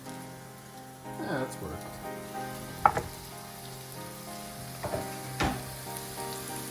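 Burger patties frying in a hot pan, a soft steady sizzle with a few sharp pops and clinks of utensils, and a brief spoken remark.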